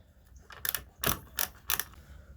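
Bolts being unscrewed from the floor of a Toyota Hiace camper van fitted with plywood: a handful of short, sharp mechanical ratcheting clicks in four distinct bursts, close and fairly quiet, with no talking.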